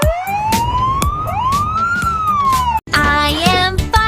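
A police car siren wails with rising and falling tones, sweeping up and down continuously with a brief break, loud and close against steady background music.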